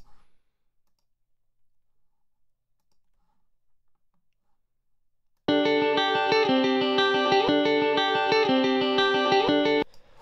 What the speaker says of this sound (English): So if I preview a harmonic loop,